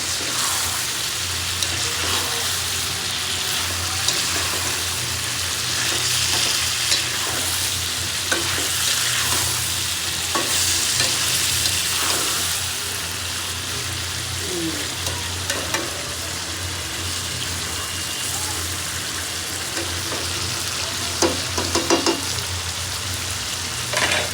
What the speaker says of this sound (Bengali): মশলাটা টমেটোর সাথে কষানো হয়ে গেছে এখন দিয়ে দিব মাছগুলো মাছ দিয়ে দিলাম সব